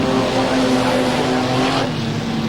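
Super modified race car from the 1999 Classic Speedway Nationals roaring around a speedway, a loud sustained engine drone holding steady pitch with a slight drop near the end.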